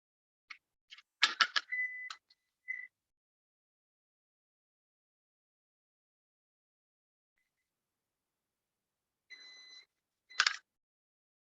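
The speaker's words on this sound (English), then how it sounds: "Oh, there goes my beeper." A kitchen timer beeper goes off during cooking of chicken and rice with peppers, sounding as a few short, close electronic beep bursts near the start and again near the end, with silence between.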